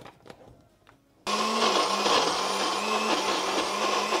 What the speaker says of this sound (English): Then I am going to blitz this up.